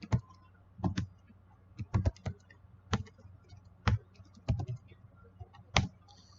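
Typing on a computer keyboard, close and quiet, with sparse individual key clicks and small clustered bursts spread irregularly over several seconds.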